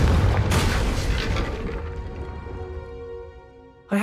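A Confringo spell explodes in a video game as a loud booming blast that decays into a ringing tonal tail over a few seconds, followed by a sharp sound at the end.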